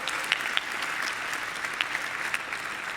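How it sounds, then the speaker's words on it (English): Applause from a conference audience at a hacker congress talk, a steady dense wash of clapping with a few sharper claps standing out, fairly distant and sustained throughout. "Please, with a very warm applause, Boris Lein."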